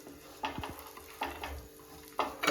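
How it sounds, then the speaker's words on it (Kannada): Bread is lightly fried and stirred in a pan, with faint sizzling and a few soft, separate scrapes and clinks of a spoon against the pan in a quiet kitchen. "ಅದೆರಡೂ ಲೈಟಾಗಿ ಫ್ರೈ ಮಾಡ್ಕೋಬೇಕು."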